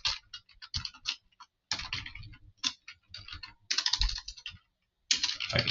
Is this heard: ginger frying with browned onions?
no